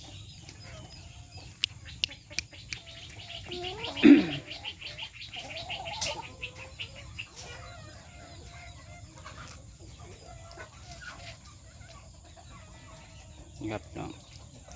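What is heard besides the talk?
young chickens clucking in a coop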